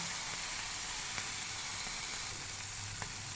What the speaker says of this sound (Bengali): চিংড়ি মাছটা ফ্রাই হয়ে গেছে, এবার তুলে নেব।